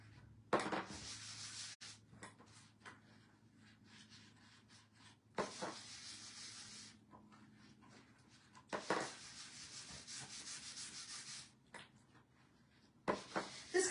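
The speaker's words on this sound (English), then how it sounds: "we are going to wax this as well to protect my transfer" Close, dry rubbing strokes as wax is worked by hand over a transferred design on a craft surface, coming in separate bursts of a second or more with quiet pauses between them.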